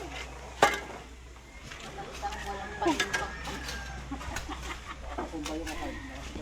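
A rooster clucks and calls in short bursts amid farmyard bustle, with people talking and a sharp knock near the start.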